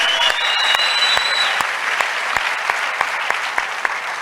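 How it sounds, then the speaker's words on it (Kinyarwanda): A church congregation bursts into loud, sustained applause, a dense wash of clapping with a few sharp individual claps standing out, heard up close. "Reka tumukomera amashyi menshi."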